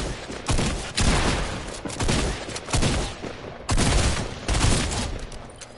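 Rapid, loud sniper gunfire in a video game, a burst of sharp repeated shots cracking about every half second to second close by, with no talk over it.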